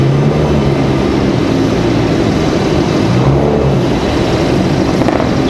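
Boeing 757 airliner departing Raleigh-Durham International Airport, a loud, steady engine roar with low rumbling, close and sustained throughout, no talk.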